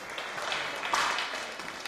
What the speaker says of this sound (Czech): zatleskejte jim